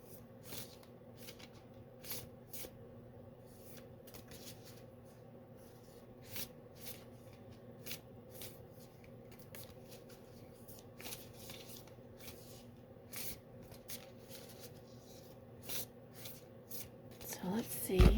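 Tarot cards shuffled by hand, a long run of soft riffling flicks and taps at an irregular pace, quiet and close, with a brief louder rustle at the end.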